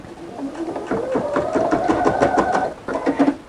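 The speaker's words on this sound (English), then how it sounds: "I'm just going to go ahead and start the stitch out." An embroidery sewing machine stitches with metallic thread, a rapid even run of needle strokes that pauses briefly and resumes, close and clear with no talk.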